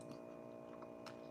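Quiet, close chewing on a small pressure-cooked samgyetang chicken, bones and all, with soft wet bites over a faint steady hum.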